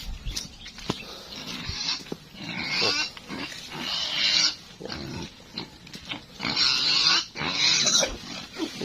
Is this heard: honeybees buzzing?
no